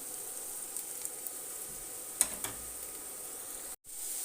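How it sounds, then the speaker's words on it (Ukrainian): Onion with freshly added grated carrot frying in a pan, a steady soft sizzle with a few faint stirring clicks and a brief dropout near the end, no voices. "Тим часом я вже на пательні смажую цибульку. Цибулька трішки вже підсмажилась, додаю сюди натертої моркви."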